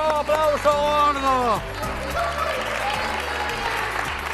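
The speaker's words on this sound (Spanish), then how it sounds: "¡Aplauso, aplauso gordo!" An audience applauds at a bowling alley, a loud burst of clapping and cheering that begins under a raised, excited voice and then carries on steadily.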